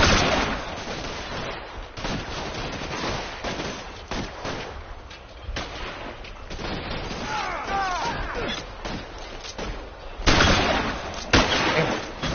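Video game gunfire in L.A. Noire, with bursts of rapid shots and scattered single cracks throughout, mixed with game voices and shouting.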